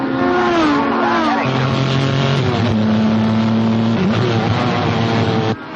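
Racing cars in a motor race roar continuously and loudly, engine pitch rising and falling as they pass and shift, with the steady drone filling the whole stretch before cutting off abruptly at the end.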